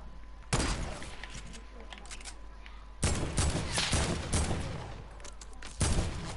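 Video-game gunfire erupts in loud, dense bursts of rapid shots that start and stop abruptly, with short quieter gaps between volleys.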